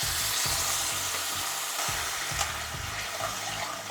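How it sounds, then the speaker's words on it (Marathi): Water pours into a pan of cooked coconut and jaggery filling for a traditional sweet, hissing and bubbling steadily with a few soft clatters of stirring, close by and without any voices. "आता याच्यात आपण पाऊण वाटी पाणी घालणार आहोत"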